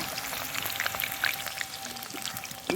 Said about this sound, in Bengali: আলুগুলোকে তেলে শুধু হালকা করে ভেজে নেব দেখো তেলে দিয়ে দিয়েছি